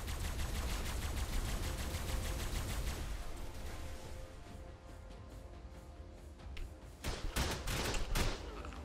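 Rapid bursts of gunfire in the survival game Ark with the Primal Fear mod, a dense crackling barrage that runs loud and steady, thins out briefly, then returns in several sharp closing shots.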